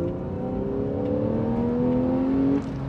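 A Porsche 911 991 Carrera engine revs up, its rising tone climbing steadily for over two seconds before cutting back sharply, loud and close with no talk.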